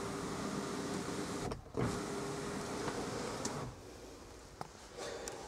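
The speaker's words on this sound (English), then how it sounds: "We have electric windows front and rear" Electric windows on a Nissan Qashqai whir steadily as the motors run, with a brief pause and a soft thunk between movements, heard close inside the car and fairly quiet.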